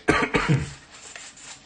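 A person coughs several times in quick succession, close and loud, then the sound fades into quiet room noise.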